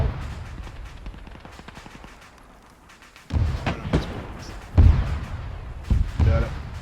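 Tank shells and heavy fire striking players in a WWII video game set in North Africa: a low droning start, then several heavy booming impacts and thuds in quick succession, loud and close.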